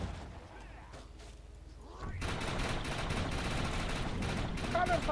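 Rapid bursts of gunfire from a co-op shooter game, Defiance, fighting mutants, start up around the two-second mark and continue loud and dense to the end, with people talking over the earlier part.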